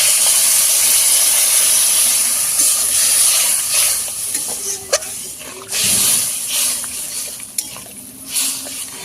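Water poured into sizzling fried spice masala in a pan sets off a loud, continuous steamy hiss that surges and fades in bursts, with no talking.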